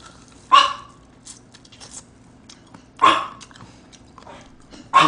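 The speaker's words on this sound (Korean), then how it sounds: "우리 집 강아지는, 아롱아 조용히 해봐" A small dog barks at home, three sharp, loud yaps spaced a few seconds apart over a quiet room with faint low background hum.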